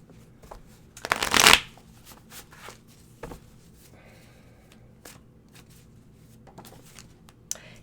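Tarot cards are shuffled close up, starting with one loud riffling burst and followed by scattered softer card taps and slides against a quiet room.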